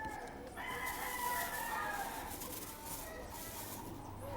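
Roosters crowing on a farm where chickens are raised, several calls overlapping at moderate distance amid a busy outdoor background, fairly faint and continuous.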